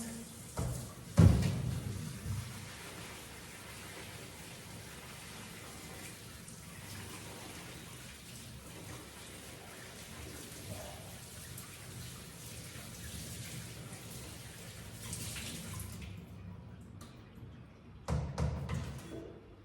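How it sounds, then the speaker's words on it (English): Food being rinsed under running water while cooking, a steady close wash of flowing water with a thump near the start and a few clatters toward the end. "Then we're gonna rinse."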